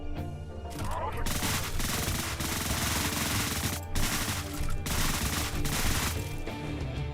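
Rapid machine gun fire in Deadbolt pours out in long, dense bursts with a few brief pauses between volleys, loud and close, over a busy in-game background.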